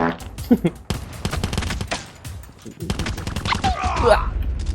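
Rapid gunfire from the GKS weapon in Call of Duty, loud repeated bursts of shots with game effects, mixed with a person talking over the action.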